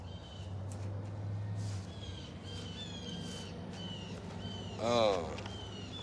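A bird calls outdoors with a loud burst of rapid, rising cries near the end, following faint chirps and distant calls over a low background hum.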